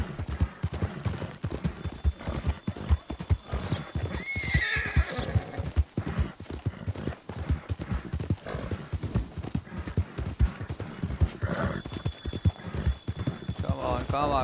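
Mare galloping in Red Dead Redemption 2: a steady, driving beat of hooves with a couple of whinnies, heard under someone talking throughout.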